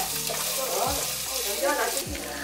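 Onions frying in a pan while cooking Tibetan food at home, a steady broadband sizzle and crackle close up, with occasional stirring scrapes and low hum underneath, continuous throughout with no talking.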